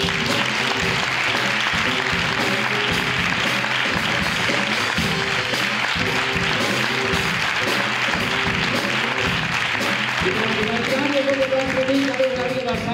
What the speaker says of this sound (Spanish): te damos un fuerte aplaudimiento